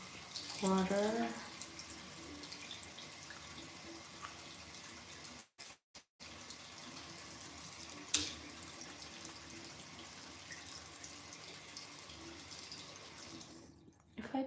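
Water runs from a tap during face washing in a quiet room, a soft steady flow with a brief burst of louder splashing near the start and a short interruption midway.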